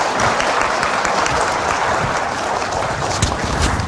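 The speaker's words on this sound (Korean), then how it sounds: "다시 한번 감사의 박수 부탁드리겠습니다" Applause from a seminar audience in a hall, dense continuous clapping at an even level, moderately loud and unbroken, with no speech over it.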